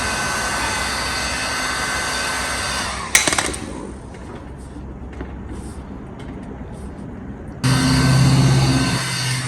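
A heat gun warming a car lip on a Toyota Corolla, a steady close roaring blow that cuts off after about three seconds and then starts again loudly near the end.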